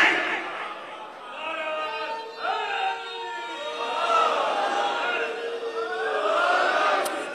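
At a Muharram religious gathering in Karachi, a crowd chants religious slogans, with two different slogans overlapping out of sync so the voices blur into a rising, sustained mass.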